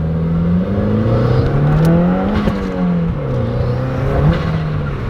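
Audi S5 engine revving hard and continuously, its pitch rising and falling in loud, close, sustained bursts with no pauses.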